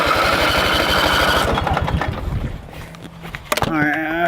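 A riding lawn mower engine rigged for rally use, with its throttle linkage run off the choke, chugs loudly, then its rhythm changes and thins as the throttle opens. Someone speaks near the end.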